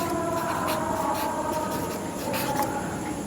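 Pen writing out a Class 9 maths solution, a steady close scratching that runs without pause under a faint background hum.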